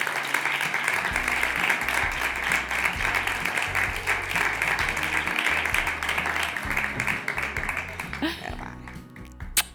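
Audience applause for a speaker at a podcasting conference, dense steady clapping filling the room for several seconds before tapering off near the end, with a voice coming in as it fades.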